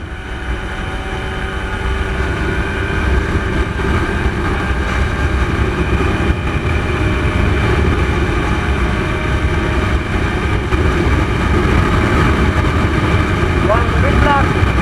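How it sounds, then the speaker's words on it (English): Steady, loud wind roar buffets the rider on a 2001 TVS-Suzuki Max 100R motorcycle at sustained high speed, a continuous broadband rush with engine drone beneath, close and unbroken throughout. "The wind blast is scary, man."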